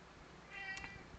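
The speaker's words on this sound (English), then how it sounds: "I don't know if you can hear him or not, but he's down there meowing away." A cat meowing once from somewhere below, a short, faint cry rising briefly above a quiet indoor background hum.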